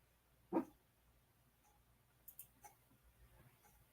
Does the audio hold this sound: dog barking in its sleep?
yes